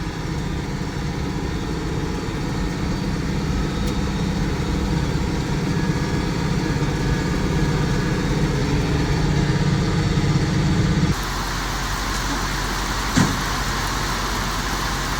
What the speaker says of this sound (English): First time driving the grain cart tractor, it's pretty cool